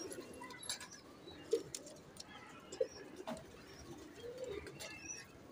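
A Sialkoti pair of pigeons coo softly in a few brief, low calls, heard faintly against a quiet outdoor background.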